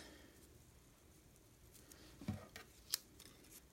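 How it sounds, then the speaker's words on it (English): Scissors snip black baker's twine tied into a bow on a Valentine treat: two quick, quiet cuts, close by, in an otherwise hushed room. "And snip, snip."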